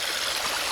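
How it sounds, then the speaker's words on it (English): Water rushes in a small stream over a little falls feeding a pond, forming a steady, close, broadband rush with no breaks and no other sounds. "There's too much water flow, too much pressure pushing on it."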